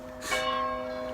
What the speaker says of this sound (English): The bell that you're hearing now traditionally was rung at 5 o'clock to signify curfew here in Inverness.